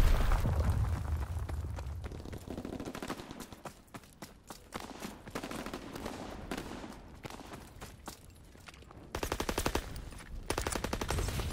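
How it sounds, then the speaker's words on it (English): Mortar fire and rapid gunfire in the video game Call of Duty WWII, continuous rattling automatic fire with deep booming impacts at the start and a loud burst near the end. "Mortar shot out."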